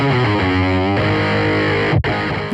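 Electric guitar running through Source Audio Kingmaker and C4 Synth pedals stacked in series, a loud, compressed, gritty synth-fuzz tone sustaining a chord, then a brief dropout and a fresh attack.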